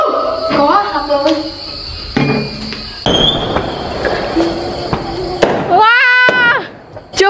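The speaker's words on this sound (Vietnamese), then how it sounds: "Chưa phải là Tết Nguyên Đán nhưng mà đã có pháo hoa." Fireworks bursting outdoors before Lunar New Year: several sharp booms and crackles at irregular intervals, some loud and close, over a steady high insect-like chirr, with brief human voices between the blasts.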